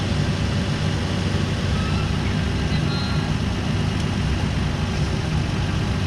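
A Nissan Skyline R34 GT-R idles with the clutch pressed, giving a steady, low, even engine rumble that runs unchanged throughout.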